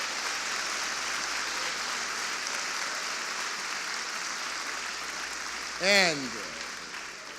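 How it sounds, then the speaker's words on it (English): Sustained applause from the audience at a National Urban League address, a steady broad wash of clapping that fills the room, with a brief spoken word near the end. "They deserve a second round of applause tonight."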